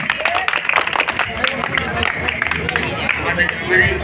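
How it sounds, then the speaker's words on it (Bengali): Audience at a village Saraswati Puja prize-giving ceremony breaking into loud, sustained clapping close by, mixed with crowd chatter and babble. "জোরে হাততালি।"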